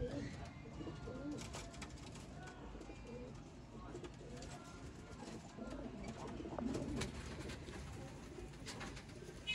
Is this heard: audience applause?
no